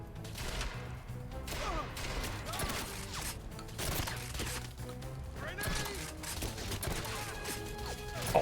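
Scattered gunshots and a grenade blast from the 2012 video game 007 Legends, mid-level and continuous, with repeated impacts and crashes over busy game sounds and music.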